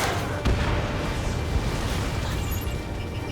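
An enemy supply ship used as a munitions depot blows up in the Ace Combat 7 video game, a dense, loud, rumbling explosion that fills the whole short stretch without letup.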